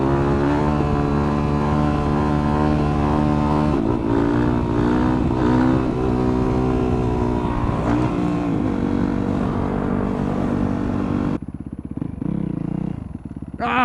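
A motorcycle engine revs loudly and steadily as the bike pulls a wheelie on a small track behind a shop, with rising and falling pitch through the ride before cutting off near the end.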